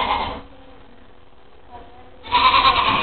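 A llama gives loud, close bleating calls, one burst at the start and a longer one at the end, with a quiet stretch between.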